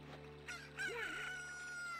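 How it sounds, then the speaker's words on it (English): A rooster crows once in the Zelda Ocarina of Time video game. The cock-a-doodle-doo is loud, clear and close, with a rising and falling call and no talking over it. "Chicken."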